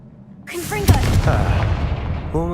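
In Hogwarts Legacy, a Confringo blasting spell swells up and then detonates in a sharp, loud blast, leaving a crackling, rumbling tail before a short tonal effect closes it out.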